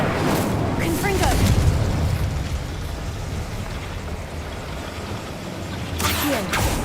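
Confringo, the explosive spell from Hogwarts Legacy, sets off a dense rumbling blast with crackling bursts and a fresh burst near the end, while a voice speaks throughout.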